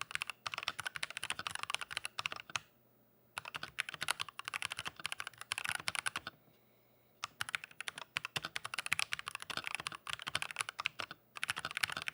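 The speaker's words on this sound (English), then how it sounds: "I'm going to type something here in the chat for you guys so we can do the typing" Someone types on a computer keyboard, producing rapid bursts of clicking keystrokes separated by two short pauses. The clicking is close and fairly quiet, with no talking.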